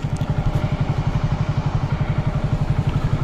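A Hero Honda Glamour motorcycle engine with a reported meter noise problem, running loud and close with a fast, steady pulsing thrum that holds an even rhythm for the whole stretch, with no talk.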